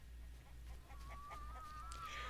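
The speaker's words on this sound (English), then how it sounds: "Fun fact, that's actually pretty close to what the chickens sound like." Chicken in The Witcher clucking a few short bursts, close and fairly faint, over a low steady hum and a thin whistling tone.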